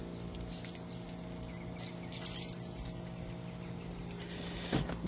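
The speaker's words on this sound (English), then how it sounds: "I got my keys." Car keys for a Volvo jangle and clink in short bursts at close range, with a fuller metallic rattle just before the five-second mark and nobody speaking.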